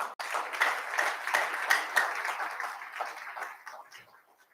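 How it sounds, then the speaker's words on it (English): A crowd applauds with steady clapping that swells briefly and then fades away to quiet. "I think we should give her a round of applause"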